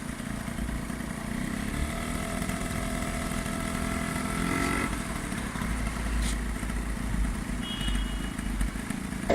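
A Piaggio Quartz 50 scooter engine runs steadily at idle after a repair for a broken gasket and a flooded engine, a continuous buzzing putter with light clatter, close and alone.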